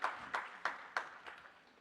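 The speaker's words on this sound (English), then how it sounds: "A round of applause to KCCA." Conference audience applauding KCCA at a national safe motherhood conference, heard as a few faint, evenly spaced claps that fade out quickly.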